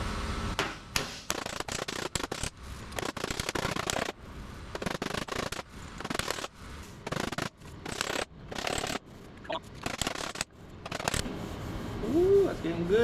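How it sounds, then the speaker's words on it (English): A car body panel being hammered out after grinding down the weld, with dense bursts of sharp metallic taps and knocks broken by short pauses, close and loud throughout. "Hammer time."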